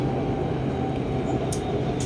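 A Bangkok MRT Blue Line metro train runs along the track with a steady rolling rumble and a brief higher squeal partway through, loud and close with no voices.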